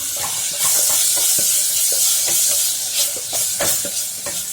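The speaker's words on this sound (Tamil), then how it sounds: "தக்காளி நல்லா குக் ஆகி வர வரைக்கும் நம்ம இதை குக் பண்ண போறோம்" Chopped tomatoes cook in masala for meen pollichathu, a Kerala fish dish: a continuous close sizzle with repeated scraping stirs of a spoon against the pan, with no voices.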